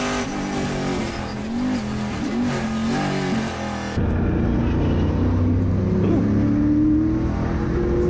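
A Chevrolet Camaro Trans Am race car at Thunderhill screams loud and close, its engine note rising as it accelerates and shifts, with a second surge of engine roar after an abrupt cut midway.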